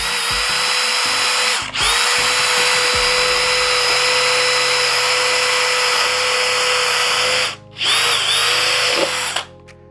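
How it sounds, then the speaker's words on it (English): A power drill drills holes loudly and almost continuously up close on a countertop, its high whine broken by two brief stops before spinning up again. "So let's go ahead and drill these up."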